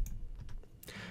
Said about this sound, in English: I'll just click it and hit Delete.